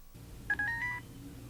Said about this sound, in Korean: 상담이 어떤 식으로 진행되는지 알아보기 위해 직접 전화 연결을 해보았다